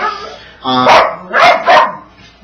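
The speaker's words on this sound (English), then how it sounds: "There's a dog barking everywhere tied up." A dog barks three times up close, loud and sharp, with short pauses between the barks.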